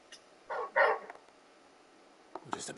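A large dog in the video game Final Fantasy XVI gives a few short, faint barks, two quick ones at the start, then a pause and another couple near the end.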